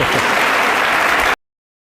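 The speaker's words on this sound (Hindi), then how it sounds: "ताली बजाओ मेरे लिए यार" Short burst of audience clapping, loud and dense, cutting off abruptly into silence after about a second and a half.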